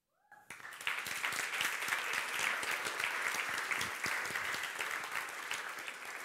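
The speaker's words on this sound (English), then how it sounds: "So a big round of applause for the team and the mentors who prepared them as well." An audience at Elevate Demo Day, a startup pitch event, breaks into sustained applause that swells in quickly and holds steady, with many hands clapping at once and no talk over it.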